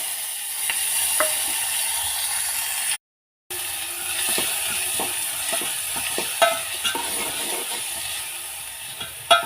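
Onions and green chillies hit hot oil with cumin and curry leaves for a peas usli, giving a close, continuous sizzle. A spoon stirs and clicks now and then, and the sound cuts out briefly partway through.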